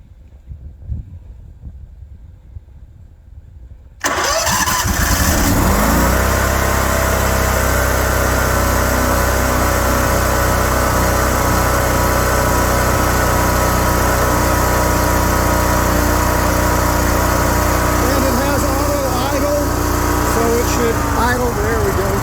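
A car engine cranks and catches after a few seconds of quiet, then settles into a loud, steady idle in cold freeze conditions, with a voice speaking over the running engine.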